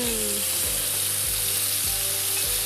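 Veal sizzles loudly in a frying pan with a constant hiss, overlaid by a few regular low thumps from stirring or moving the meat, close and with no talking.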